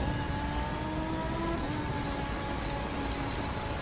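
A Lamborghini supercar engine drones steadily in The Crew 2 racing game on an icy course, loud and continuous with a slight pitch shift partway through.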